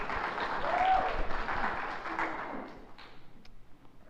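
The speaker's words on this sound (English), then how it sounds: "Clap for Joel!" An audience claps for a crew member at an entertainment premiere, a dense wash of applause from a moderately sized crowd that thins into scattered claps toward the end, with faint voices.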